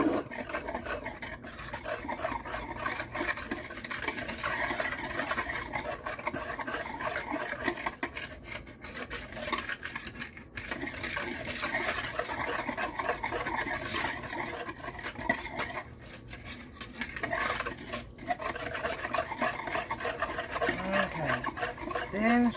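Dairy-free chocolate dessert mixture being stirred, giving a continuous scraping, rubbing sound of utensil against bowl that runs steadily throughout at moderate loudness, with faint background voices.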